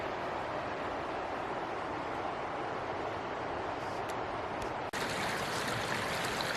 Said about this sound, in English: A little feeder creek here runs into the river.